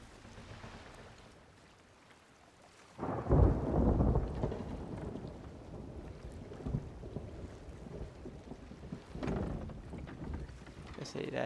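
A stormy sea in the pirate game Sea of Thieves: a sudden heavy rumble of thunder breaks over constant wind and rain noise, then a long churning roar with further gusts.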